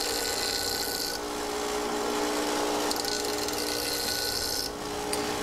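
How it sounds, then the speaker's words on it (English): Grinder working a titanium part for a 10mm 1911 pistol, a steady close abrasive whine with faint high hiss, easing off briefly twice between passes. "that grinder takes off pretty quickly"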